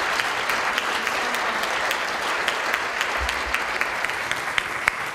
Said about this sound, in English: how about a big round of applause for our experts?